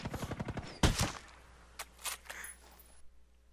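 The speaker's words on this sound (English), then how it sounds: "Now he's firing upon me" In a video game, enemy gunfire comes as a quick rapid burst, followed by one loud shot and a few scattered later cracks. The shots have short, sharp attacks and are heard without any talk.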